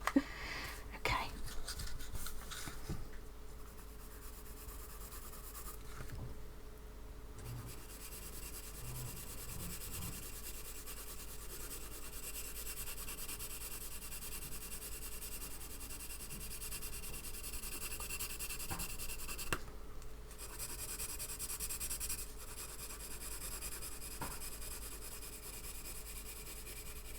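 Graphite pencils drawn across paper, starting with an HB and moving to softer leads, give a steady soft scratchy rubbing that runs throughout at low level, with brief pauses and faint voices now and then.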